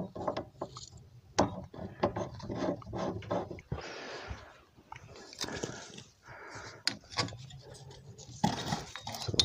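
A clamp being screwed onto a battery to mount a pump for a rainwater collection setup, heard as close ratcheting clicks and scraping, metallic handling knocks and rustling in irregular bursts.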